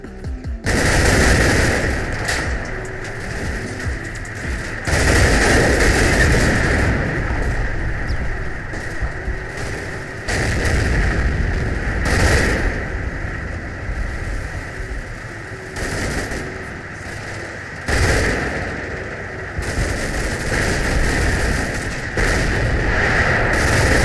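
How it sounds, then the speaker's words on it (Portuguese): Repeated heavy gunfire from a 57mm anti-tank gun shooting at a Tiger tank in the Combat Mission WWII game, loud booming reports in uneven bursts over a constant battlefield rumble. "canhão antitanque de 57mm, que arrisca mais um tiro em nosso Tiger"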